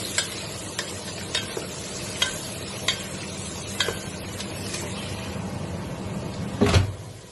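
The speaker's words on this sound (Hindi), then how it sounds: "ये भी मेरी गाजर ये हमने 3-4 मिनट फ्राई किया है" Carrots frying with browned onions in a pan for Saudi mandi rice give a steady low sizzle, cut by evenly spaced spoon taps and scrapes, ending with a louder clatter near the close.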